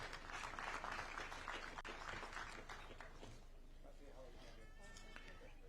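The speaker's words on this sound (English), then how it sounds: "A round of applause as she receives her award" Audience applause at a university graduation ceremony as a graduate receives an award, a dense, steady crowd clapping that fades slightly toward the end, with a background voice.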